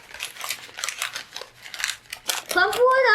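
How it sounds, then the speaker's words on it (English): A sheet of paper is crumpled by hand near the microphone, making a burst of crinkling and crackling rustles, with a voice heard toward the end. "Crumple it up to your heart's content."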